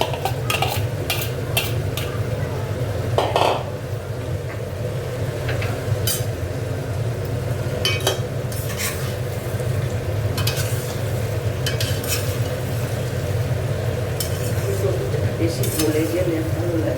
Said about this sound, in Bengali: এবার ফুলকপিগুলো দিয়ে দিচ্ছি।